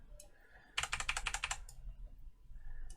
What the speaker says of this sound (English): Use my keyboard just to back that off